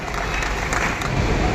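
Applause from the audience at an Urdu poetry and speech gathering, a dense, steady wash of clapping held at even loudness throughout.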